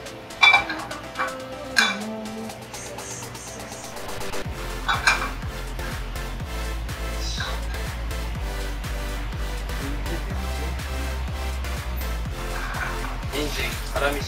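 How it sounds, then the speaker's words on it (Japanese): Coarsely chopped carrots are stir-fried with garlic in olive oil, with scraping and clinking of a utensil against the pan and occasional pot knocks over a steady low sizzle; a voice speaks at times. "人参、粗みじん切りの人参を炒めていきます。"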